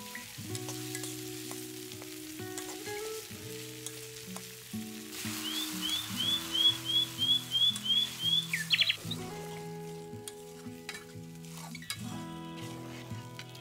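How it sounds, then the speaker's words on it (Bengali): A ground spice paste fries in a pan for a Bengali curry with river pangas fish. A soft sizzle plays under steady tonal background music, with a brief burst of rhythmic scraping as the paste is stirred midway. "বাটা মশলাগুলো দিয়ে দিচ্ছি।"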